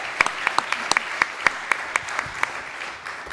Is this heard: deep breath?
no